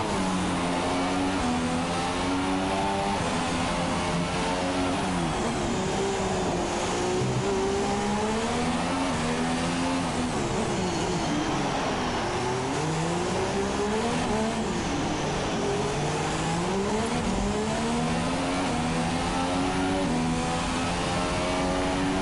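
F2 race cars at Monaco in a racing video game, engines screaming and revving continuously, with rising and falling pitch through gear changes and occasional tire squeal, loud and unbroken throughout.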